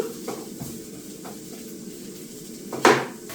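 Onions sauté in a pan for kothu roti with a steady, close sizzle, broken by soft stirring scrapes and one louder metallic clank of the utensil near the end.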